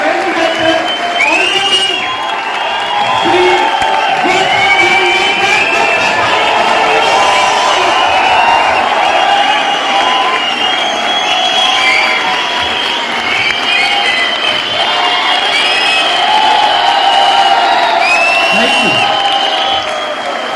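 An audience bursts into loud, sustained applause and cheering for Vestige MD Gautam Bali at a corporate event, clapping and whoops filling the hall with some voices over it.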